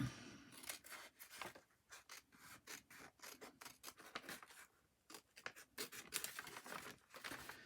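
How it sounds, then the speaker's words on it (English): Scissors trimming a window envelope's paper for a paper craft project: quick repeated snips and crisp rustles of paper, close and fairly quiet, with short pauses between cuts. "let's just trim this bit off here"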